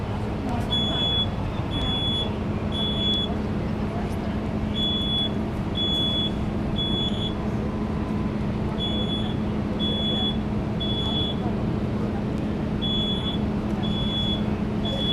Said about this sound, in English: That fire alarm activated.